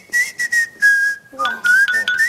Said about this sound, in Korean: 일단 치아로 휘파람불기는 뭡니까?